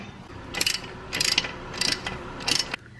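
A ratchet clicks in four short, quiet bursts while loosening a 13mm oil drain bolt on a KTM 390 Adventure motorcycle, close by and with no voices.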